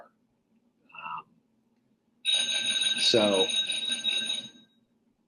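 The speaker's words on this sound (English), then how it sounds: "that's my bell." A doorbell rings with a bright, sustained metallic tone lasting about two seconds after a brief spoken word and a short chime, then fades to quiet.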